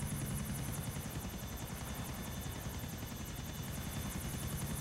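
Helicopter in the video game GTA IV, a loud steady rotor thrum with rapid chopping blade pulses, continuous and close throughout with no talk over it.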